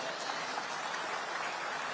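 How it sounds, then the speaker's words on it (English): A large audience applauds at a women's leadership celebration, a soft, steady wash of clapping with no pauses across the short stretch, fairly distant and quiet. "This also calls for a thundering round of applause"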